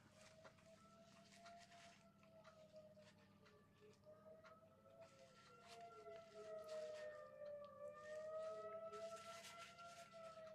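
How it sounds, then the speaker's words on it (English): A civil defense siren under test wails, rising and falling in long, slow sweeps, steady and fairly distant, with no voices over it. "on Mondays, we test out the sirens."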